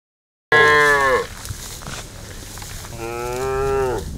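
Herd of cattle among brown shrubs on a Laikipia ranch, with two loud, drawn-out moos close by, separated by a pause filled with outdoor background noise.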